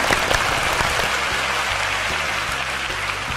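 Studio audience at a children's TV talent show applauding the winning team, a dense, continuous patter of clapping that holds steady and loud without a break, no voices over it.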